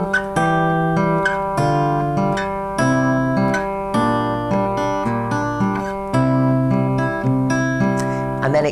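Fingerpicked acoustic guitar plays a flowing passage of a song, notes and two-note shapes rolling in a steady rhythm for several bars, close and clear with no voices.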